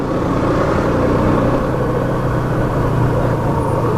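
A motorcycle engine rumbles loudly and continuously while riding and shifting into fourth gear, with a steady low drone and no voices.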